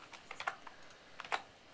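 Quiet keystrokes on a computer keyboard as a short word is typed, a few soft close clicks in a brief burst.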